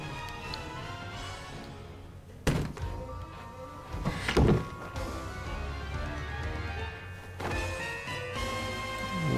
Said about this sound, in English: I want to open that chest.